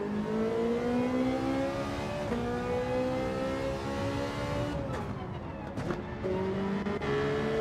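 A race car engine in a racing video game holds a high, steady whine, easing through a corner before revving back up, with someone talking over it.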